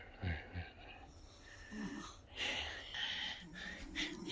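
A woman snoring in her sleep, a few soft, rough breaths with a snorting edge spread over about four seconds, faint and close by, with no talking.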